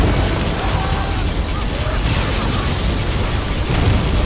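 Particle cannon blast in the C&C Generals game: a loud, sustained roaring burst of noise with rumbling, crackling texture stays dense throughout the short stretch.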